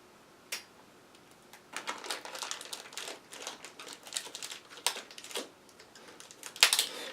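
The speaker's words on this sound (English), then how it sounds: "I'm going to put this plastic bag on his head." A thin plastic bag crinkles and rustles in irregular bursts as it is pulled over an old yellowed action figure's head, with a few sharp ticks near the end, close and fairly quiet.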